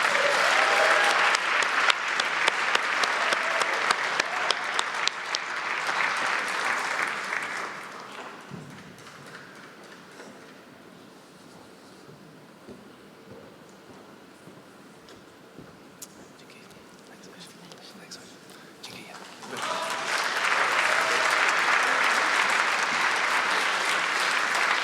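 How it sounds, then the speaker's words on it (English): A conference audience applauds museum award nominees in a loud burst that fades into a quiet stretch and then swells into strong clapping again near the end. "Can we hear a round of applause for every nominee and all of them?"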